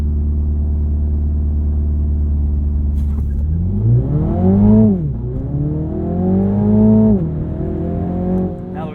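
A 2021 Mini John Cooper Works GP idles, then launches hard under launch control, the engine surging loud through rising revs with a quick shift dip and another climb, close and intense.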